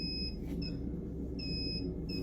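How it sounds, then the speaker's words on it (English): A fire alarm in a storage room sets off by a power outage emits short repeated high-pitched electronic beeps over a low rumbling hum, moderately close with no talking. "A power outage in one of the storage rooms was causing the fire alarm to go off."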